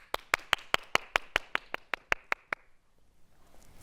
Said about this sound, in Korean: 자, 다들 박수!